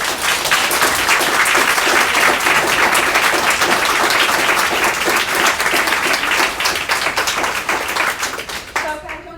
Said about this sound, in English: I would love if we could give a round of applause to all these